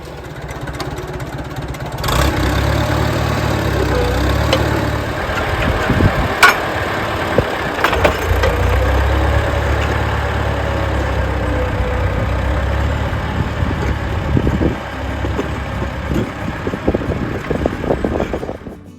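A 1950 John Deere B farm tractor engine idles and runs steadily on a farm, a continuous low mechanical drone with knocking pulses, loud and close throughout with no talk.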